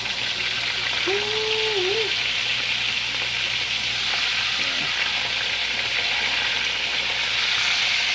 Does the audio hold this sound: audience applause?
no